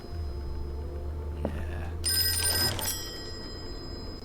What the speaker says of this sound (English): Oh, someone's ringing me.